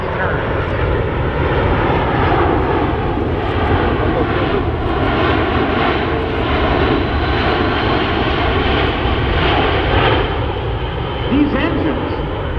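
A Boeing C-17 Globemaster III banks through a tight turn at an air show, its jet engines producing a loud, sustained roar with slowly shifting tones and no pauses.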